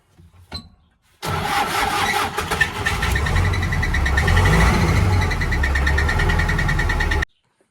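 After a brief click, a tractor's diesel engine cranks and catches, then runs loud and rough with a steady chugging idle and an unexplained odd noise, until it cuts off abruptly.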